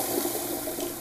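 A toilet flush rushes steadily in a short burst of broadband water noise, fairly loud and close, with no talk over it.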